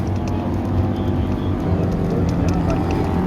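Land speed racing motorcycle, bike number 2055, making a run on the El Mirage dry lakebed, a steady loud engine drone throughout while an announcer talks over it.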